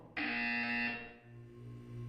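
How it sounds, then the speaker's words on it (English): A loud electronic buzzer from Portal 2 sounds once in a single flat tone lasting under a second, then cuts off, leaving a quiet low hum behind it. "When you hear the buzzer, look down at the floor."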